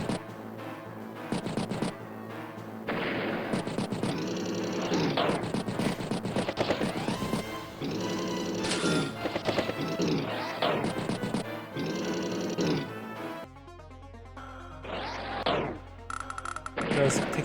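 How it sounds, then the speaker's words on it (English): Attack strikes land on a tank and an artillery unit in the Advance Wars video game: busy, loud electronic battle effects and rapid percussive bursts over a dense game soundtrack, ending in a brief, thinner sequence of effects. "Does strike the tank and that artillery piece."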